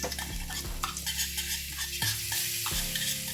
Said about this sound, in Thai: ผัดกระเทียมให้หอมเลยนะครับ